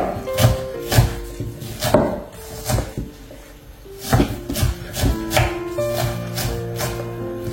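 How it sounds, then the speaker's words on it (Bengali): A knife chopping white onion gives a series of firm, close thumps on a board at an uneven, unhurried pace, with faint clinks and tonal background sound between strokes and no talking. "এটা হচ্ছে সাদা রঙের পেঁয়াজ কাটতেছে এখন।"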